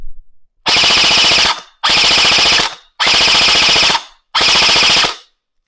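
Custom EMERBUTOYS Gen8.5 gearbox gel blaster built as a tactical M4, firing four loud, close full-auto bursts of rapid mechanical cycling, each burst about a second long and separated by short pauses.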